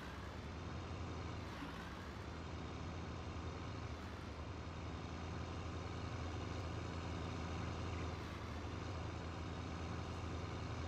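In the Farming Simulator video game, a tractor engine hums at a low, steady level, with a continuous rumble that barely changes and no one talking over it.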